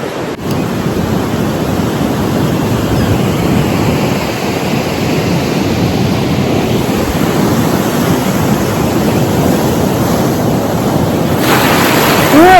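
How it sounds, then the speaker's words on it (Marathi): Waves wash continuously onto a beach at Devgad, a loud broadband roar of surf mixed with wind buffeting the microphone, steady for the whole stretch. "आणि हा आपला बीच."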